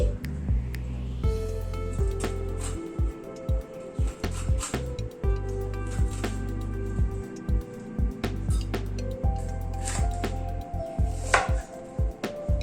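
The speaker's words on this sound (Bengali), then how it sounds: "এবার ক্যাপসিকামটাকেও এরকম লম্বা করে কেটে নিচ্ছি" A knife chops potato and capsicum lengthwise on a cutting board, giving steady, close, sharp rhythmic knocks that keep going for several seconds with no talking.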